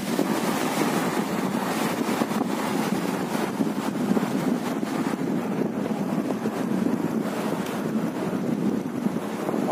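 Heavy, dirty river water rushing beneath a large new bridge at Tupkadih, a loud continuous roar of flowing water mixed with strong wind buffeting the microphone, with no pauses.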